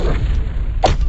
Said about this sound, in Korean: 쿵쿵쿵 발자국이 찍혔지?